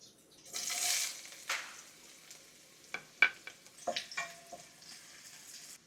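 Onion and garlic sautéing in a pan for ginataang bayuko: a steady sizzle that swells then eases, broken by a few sharp scrapes and clinks of a spatula, with no talk.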